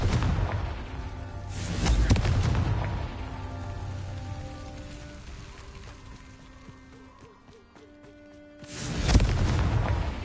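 Confringo fire-blast spells from the Hogwarts Legacy video game burst out as loud booming blasts, one near the start around two seconds and another near the end, with a rumbling, crackling magical ambience between them.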